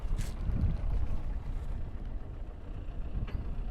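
A tractor on a farm at the end of the harvest season idles just before driving off, a low, steady engine rumble mixed with gusty wind noise, with no one talking.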